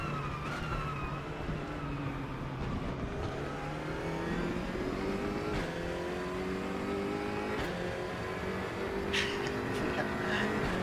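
A BMW race car engine in the sim racing game RaceRoom, revving up and down through gear changes with a steady whining drone that rises and falls, moderately loud throughout.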